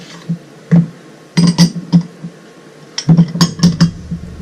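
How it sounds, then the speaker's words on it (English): Dry pancake ingredients whisked in a bowl outdoors, a fast run of light clinking taps in two short bursts with a pause between them. "Okay, we're just going to whisk that together."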